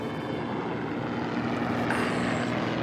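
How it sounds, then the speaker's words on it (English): An aeroplane flying overhead, its engine producing a steady broad drone with a faint hum running underneath that swells slightly in the final second, continuous and moderately loud. "Just as an aeroplane going overhead"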